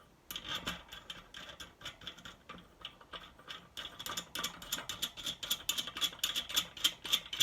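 Wrench tightening the axle nut on a BMX race wheel after the bearings are replaced, giving a steady run of quick ratcheting clicks that grow busier and louder, close and without talking.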